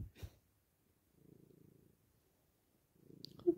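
A pet cat sleeping curled against a person purrs softly and close up, in two low rumbling stretches with quiet between them and a brief soft snort or rustle at the start and end.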